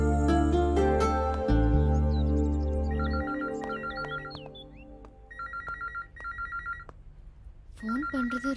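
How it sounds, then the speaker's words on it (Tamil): A telephone rings in a Tamil film scene: after a fading musical chord, an electronic ringtone sounds in four separate short trilling bursts, clear and moderately loud, with faint background sounds between them. "ஃபோன் பண்றது ராஜீவா தான் இருக்கும்னு நினைக்கிறேன்"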